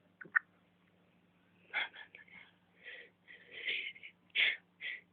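A sleeping female cat snoring with eyes half open: soft, wheezy, snorting breaths in irregular puffs, quiet and close, with faint background hum.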